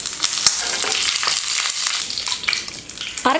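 Mustard seeds, urad dal and curry leaves sizzle and crackle in hot oil while chutney is made for idli and dosa, a loud, steady fry with scattered popping bursts throughout.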